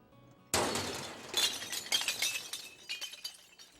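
Glass bottles smash at a recycling area, a sudden loud crash followed by a rapid series of shattering breaks and tinkling clinks that thin out over a few seconds.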